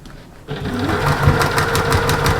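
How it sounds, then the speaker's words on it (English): Sewing machine stitching straight across a seam on a fabric storage caddy. After a brief quiet start it runs steadily, a close, loud, even mechanical whir with fast rhythmic needle clatter and no talking. "And just stitch straight across."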